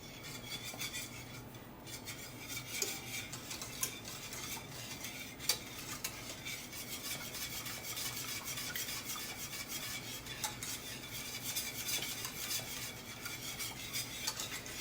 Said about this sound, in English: stand here and whisk the whole time if you're going to make a pie